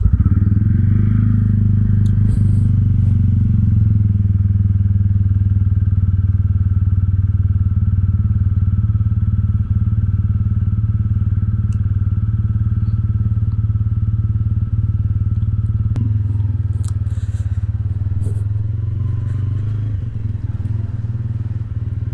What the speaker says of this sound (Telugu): ఫస్ట్ మనం బైక్ని అయితే కాసేపు వార్మప్ చేసుకుందాం